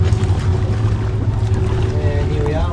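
A boat with twin Yamaha F200XSA outboards and Helm Master EX maneuvers slowly toward a jetty in tide and wind, a steady low engine hum with wind and water noise, and a voice speaking over it.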